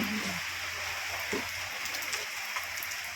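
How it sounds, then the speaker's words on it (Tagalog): Heavy rain pours steadily during a storm in the Philippines, a dense, constant wash of noise close by with wind, while faint voices come and go under it. "Malakas nga lang ang ulan."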